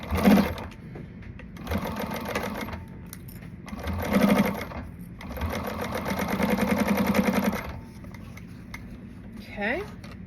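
A home sewing machine stitching seams in several steady bursts of rapid, even needle clatter, separated by short pauses, with a voice speaking briefly near the end.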